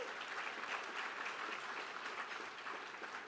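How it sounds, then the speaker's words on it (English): Steady applause from a gala audience honoring Martin Luther King Jr., a dense wash of clapping hands that holds level for a few seconds and eases slightly at the end. "Round of applause,"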